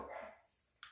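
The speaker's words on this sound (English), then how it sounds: "Dogs are going nuts about something again." Dogs bark at something outside, heard faintly and distantly as a short burst at the very end of a quiet moment.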